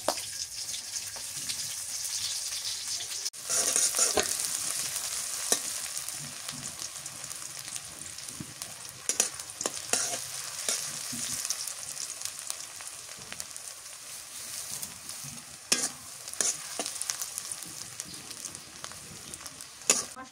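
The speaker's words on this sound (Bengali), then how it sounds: "পেঁয়াজ কুচি দিলাম" Chopped onions dropped into a pan with whole garam masala spices, frying with a continuous loud sizzle and occasional spatula scrapes and clicks, up close and without speech.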